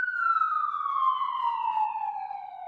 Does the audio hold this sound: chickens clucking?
no